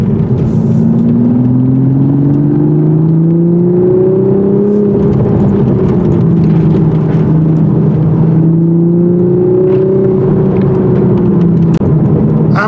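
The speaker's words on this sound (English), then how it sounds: "I'm told this exhaust sound is fake," A 2023 Toyota Supra with a six-speed manual drones loudly with an artificial exhaust note piped into the cabin, rising and falling steadily through two long pulls with no talk over it.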